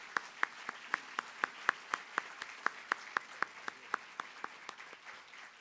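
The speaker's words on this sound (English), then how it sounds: "Please join me in giving them a round of applause for their amazing work." Audience applause at a white coat ceremony sounds thin and fairly faint, like a small scattering of hands. Distinct claps fall in a steady rhythm of several per second for about six seconds.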